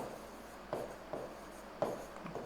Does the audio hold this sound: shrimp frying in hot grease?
no